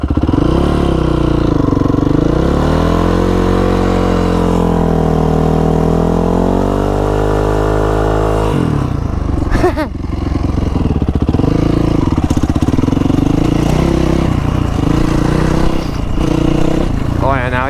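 A Honda CRF450R dirt bike engine revving up close in a parking lot, the pitch rising and falling in long loud sweeps, then a rougher, choppier running note with clatter and a voice talking over it.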